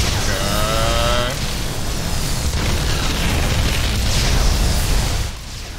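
Massed Cyclone units firing in StarCraft 2, a dense, continuous barrage of booming shots and bursts layered over loud game battle noise for the full stretch, with no pause in the din.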